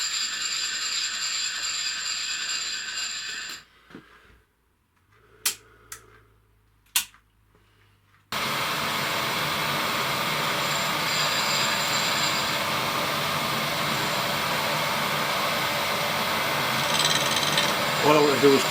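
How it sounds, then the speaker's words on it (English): A sharp new milling cutter strips paint from a Volvo cam cover. A steady mechanical whine and grind comes first, then a brief quiet with a few clicks, and the loud continuous cutting returns and runs to the end. "This is a nice new milling cutter, a really sharp one."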